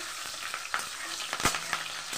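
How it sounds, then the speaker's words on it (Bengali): Cumin seeds and green chillies frying in hot oil, a close, continuous sizzle dotted with small pops and crackles at an irregular pace. "কাঁচা লঙ্কাটাও ফোড়ন দিয়ে দিলাম।"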